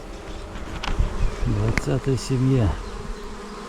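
Honeybees drone steadily around a hive at an apiary during warm weather, a dense continuous buzz with someone speaking briefly over it partway through.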